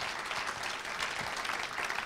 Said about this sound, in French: je crois qu'on peut applaudir Philippe et puis Vincent.